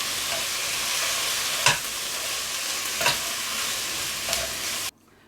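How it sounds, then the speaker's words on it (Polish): Onion frying in a little oil in a pot, seasoned with salt: a steady close broadband sizzle running throughout, with three brief stirring scrapes, ending abruptly in near silence. "Przyprawiam ją odrobiną soli, wlewam odrobinę oleju i podsmażam. Cebulę podsmażam do momentu, aż zmięknie."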